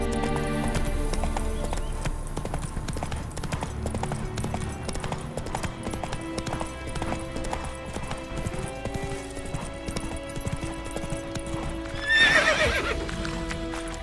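Steady clip-clop of a horse galloping in The Witcher 3: Wild Hunt next-gen, with game music underneath and a whinny near the end, loud and continuous throughout.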